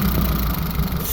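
A 1988 Suzuki Samurai fitted with dual 40mm Mikuni side-draft carburetors idles low and steady, a continuous close engine rumble with no talk over it.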